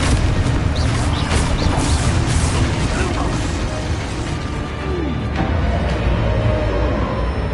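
Confringo spell explosions in the Hogwarts Legacy video game: loud, dense booming blasts and crashing bursts over a continuous roar of battle noise.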